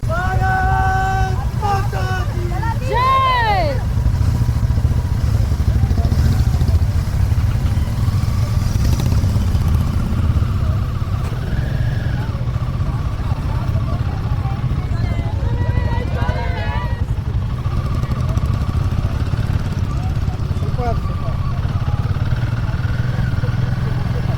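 Motorcycles gathered at the Jammu flag-off of a long-distance bike rally hold a continuous engine drone, with voices and clattering sounds over the top.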